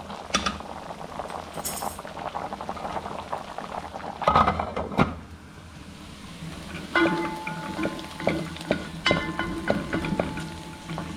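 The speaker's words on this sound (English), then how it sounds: "So I will still need it to keep on boiling." Potatoes boil in a pot on a stove, a steady close bubbling and hissing broken by clinks of cutlery and pot sounds.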